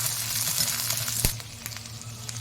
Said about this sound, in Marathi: थोडी तेलाची धार टाकून हे छान भाजून घ्यायचं आता यात भाजत भाजतच आपण फक्त शेंगदाणे पण यासोबत भाजून घेणार आहोत